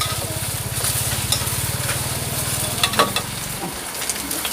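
Egg fries in a hot wok at a busy Thai street food stall, a loud continuous sizzle under rhythmic metal scraping and stirring, with quick clanks of the spatula near the end.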